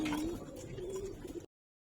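Low, soft cooing from Giribaz high-flyer pigeons repeats steadily for about a second and a half, close by, with faint background rustle before the sound cuts off.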